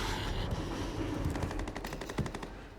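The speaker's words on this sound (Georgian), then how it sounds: "ნუ იქით სროლის ხმები არის." Gunfire in the video game Dying Light The Beast comes as a rapid machine-gun burst of evenly spaced shots, steady but a little distant, over a loud background rumble.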